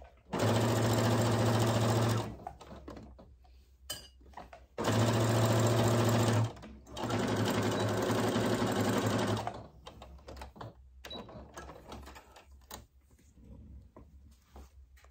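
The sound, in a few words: sewing machine stitching a cosmetic zipper bag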